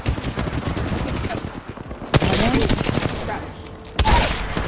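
Gunfire in the video game Apex Legends Arenas: rapid automatic bursts of shots fill the clip, with sharp louder cracks near the middle and end, over dense game noise.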